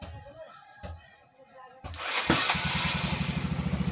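A Yamaha Mio Sporty scooter with a freshly rebuilt stock engine cranks, catches, and settles into a steady, quick-pulsing idle, close and clear, after a few brief starter attempts.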